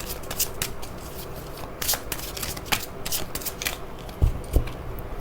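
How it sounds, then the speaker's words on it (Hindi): Cards are shuffled for a reading, a close riffling flutter with scattered sharper snaps and taps over several seconds, without any talk. "यहाँ पर मैं अच्छे से कार्ड्स को शफल कर लेती हूँ।"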